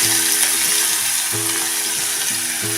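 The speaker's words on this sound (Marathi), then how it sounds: "हा कांदा आपण चांगला भाजून घ्यायचा आहे" Finely chopped onions fry with asafoetida in a pan, a loud, close, unbroken sizzle broken by regular metallic scrapes of stirring.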